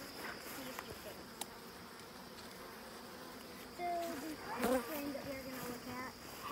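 Honey bees at an opened hive during an inspection give a steady, faint buzzing drone, with a few louder passes of individual bees near the end as a voice talks in the background.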